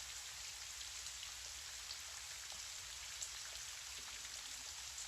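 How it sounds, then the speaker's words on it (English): Soft, steady rainfall patters outside a window, an unbroken hiss of gentle drops at an even level throughout, with no one talking. "sound of rain outside your window"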